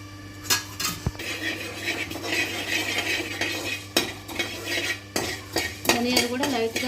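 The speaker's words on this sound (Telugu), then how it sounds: "ధనియాలు కూడా లైట్గా ఫ్రై చేసుకోవాలన్నమాట." Coriander seeds dry-roasting in a pan for flaxseed chutney powder, with a spatula scraping and clinking against metal in uneven strokes over a faint sizzle and a steady background hum.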